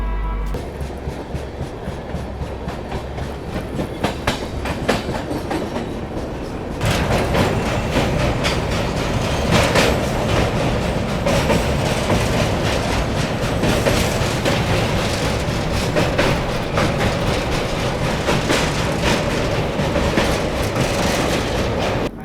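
The 15744 Delhi–Balurghat Farakka Express passenger train rolls along the rails with a continuous clickety-clack, growing louder and fuller partway through as if a door or window opens, heard from on board with no talking.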